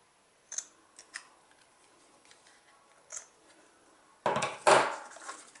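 Paper being trimmed for card making, with a few soft ticks and taps followed by one close, crisp slicing cut near the end.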